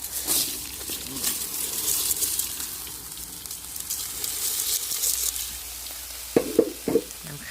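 Washed rice being stir-fried with garlic and ginger gives a soft, continuous sizzle throughout, with a few louder scraping stirs and knocks near the end.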